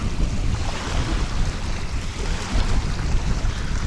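Strong wind buffets the microphone on a Volga riverbank, a continuous loud roar of gusts with rushing, surf-like noise and no voices.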